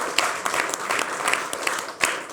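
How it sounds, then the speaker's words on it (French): A studio audience at a French talk show applauds a guest, a dense continuous patter of many hands at moderate level with a few sharper individual claps standing out. "On peut l'applaudir aussi."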